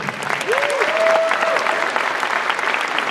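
An audience at the Olympia bodybuilding event applauds steadily for the IFBB vice president and head judge, a sustained wash of clapping with a brief whistle early on.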